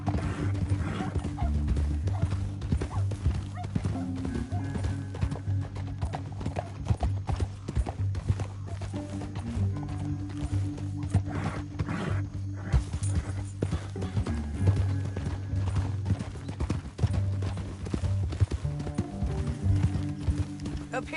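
Horse hooves galloping in the video game Red Dead Redemption 2, a steady continuous drumming of clip-clop hoofbeats throughout with game music and occasional neighs, loud and close.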